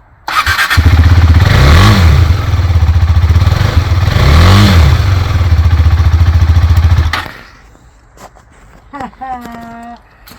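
A repaired motorbike engine starts and runs loud and close for several seconds, with two rising revs. It then cuts off, and brief talking follows.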